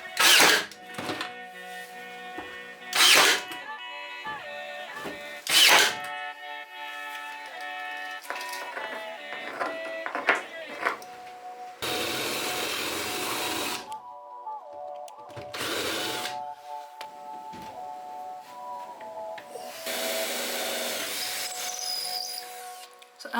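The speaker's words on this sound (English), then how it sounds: "Hayden's making some more holes in the structure of the caravan" A power drill bores holes into a caravan's structure in several short whirring bursts, sharp high-pitched whines starting and stopping, followed by longer steady drilling runs and a few thunks between them.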